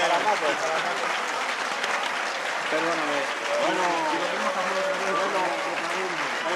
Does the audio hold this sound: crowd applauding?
yes